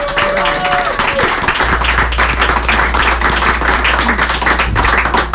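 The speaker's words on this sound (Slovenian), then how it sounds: "Jaz bi kar še ploskal." Audience applause at a charity fundraising event in Slovenia, sustained dense clapping from a crowd that starts alongside a low hum and keeps going steadily throughout.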